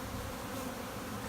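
Honeybees fan and buzz at a newly installed package hive, a steady, dense, even hum of many wings close by, faint overall and with no voices.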